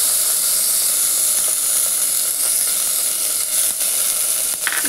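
Ghee heats in a pot on a gas stove with a loud, steady hissing sizzle, close and continuous, with a few faint clinks near the end.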